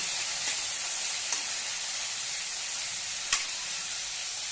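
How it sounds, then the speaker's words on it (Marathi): Finely chopped tomato sautéing in a hot pan for a drumstick and dal dish, a steady soft sizzle and hiss with a couple of faint clicks, no voices. "टोमॅटो बारीक केलेला आहे तो घालूया छानपैकी परतून घेऊया"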